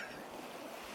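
A seaside sound effect of ocean waves plays as a steady, faint wash of surf with soft wind-like hiss, continuous through a brief one-second stretch without any voices.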